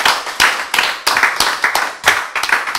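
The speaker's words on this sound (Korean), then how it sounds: "박수 한번 칩시다" An audience at a lecture claps together in a short burst of sharp, fairly loud handclaps, each clap crisp and distinct, with no talking over it.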